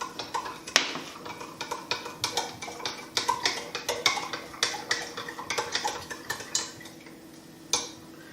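A spoon stirs a dry yeast mixture in a vessel for homemade grape wine, giving a brisk, steady run of close clinks and scrapes against the container walls.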